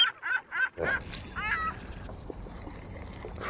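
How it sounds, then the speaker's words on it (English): Seagull at a reservoir giving a few short, sharp cries in quick succession, fairly close, then fading into a quiet outdoor background. "freaking seagull."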